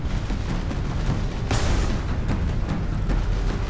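A Mark 12 Rage Fire plasma gun in the Warhammer 40,000 Space Marine game booms out charged energy pulses over a dense, continuous rumble of battle, with one sharper, louder blast standing out near the middle.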